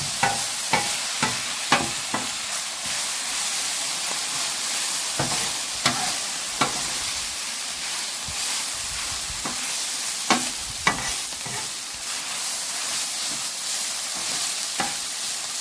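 A homemade hibachi stir-fry with soy sauce sizzles steadily while a utensil scrapes and taps against the pan in irregular, sharp clacks over about fifteen seconds, close by and with no talking.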